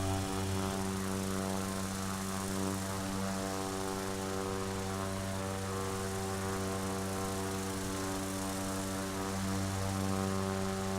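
Cessna Caravan turboprop climbing in the FSX flight simulator, a constant loud engine and propeller drone with steady tonal hum and no pauses from start to finish.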